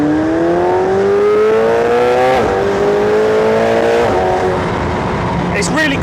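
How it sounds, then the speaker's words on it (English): A McLaren 720S Spider supercar engine revs up and drops back in repeated climbing sweeps, loud and close, with a brief tire chirp near the end. "we'll start with the engine note"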